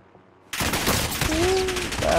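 A burst of loud, rapid video game gunfire erupts after a brief quiet moment and continues densely, with a rising tone cutting through near the end.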